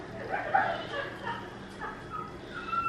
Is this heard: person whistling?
no